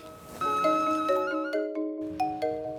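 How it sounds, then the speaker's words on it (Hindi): A bright phone ringtone plays a rising sequence of bell-like chiming tones, each note ringing and decaying, clear and close with no talking. "अरे ये फोन पे किसी घंटी आ गई भाई"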